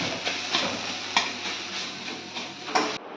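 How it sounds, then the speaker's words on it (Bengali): Chowmein with fried egg and potato sizzling in a pan at home, a steady moderate hiss with several sharp spatula scrapes and taps, cutting off abruptly at the end, no talking. "ভাজা হচ্ছে আর এই চাউমিন"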